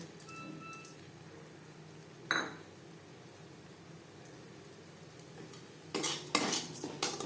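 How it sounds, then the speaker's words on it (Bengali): Rice is stirred with spices in a cooking pan over a low gas flame. A spoon scrapes and clinks against the pan in a few short, distinct strokes, with soft quiet stretches between them and busier scraping toward the end. "মশলার সাথে চাল বেশ ভালো করে মিক্সড করে দেবো"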